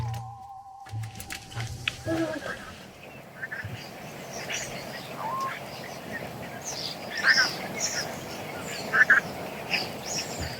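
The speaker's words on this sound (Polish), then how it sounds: "Nie wiem, czy słychać, ptaki." Scattered bird calls and quacking sound from a distance at night over a quiet outdoor background, with a few brief chirps standing out.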